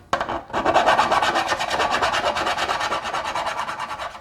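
A hand file rasps back and forth across a damaged metal panel on an FB Mondial 125 motorcycle, giving a steady run of close, even strokes with no talk.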